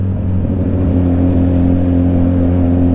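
City road traffic at a standstill around a scooter in afternoon congestion: a continuous low engine hum and rumble from nearby cars, steady and close, with no voices.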